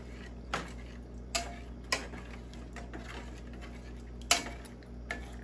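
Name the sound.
mixing masala ramen in a pot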